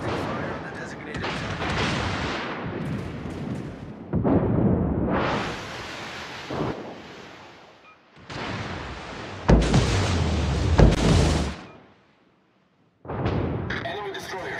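Destroyer deck guns fire in a naval combat video game, heavy booming salvos rolling into long rumbling bursts separated by brief gaps, loud and close, with game voice callouts in between.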